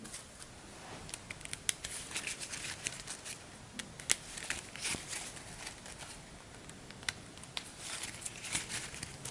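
A deck of game cards being shuffled during a tabletop board game session, a steady dense flutter of riffling and sliding cards with sharp snaps, fairly close and continuous, no voices.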